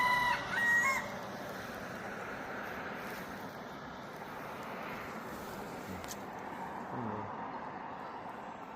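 A rooster crows once in the distance, with a steady murmur of background noise and faint bird sounds around it.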